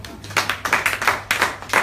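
A church congregation at a Bible study and prayer meeting claps hands in a quick, steady rhythm of repeated claps, loud and close, with a low hum underneath.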